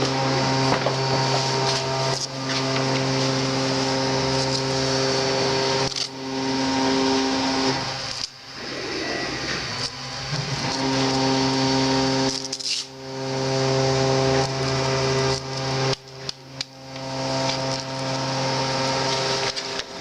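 An electric wood sander with a dust bag runs while sanding wooden spatulas, making a close, steady whirring drone with a few short pauses and dips in load.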